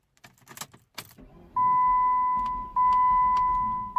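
An old fuel-injected car that has sat for years cranks on its starter after keys jangle, with two sustained cranking bursts and a steady electronic warning tone running beneath them.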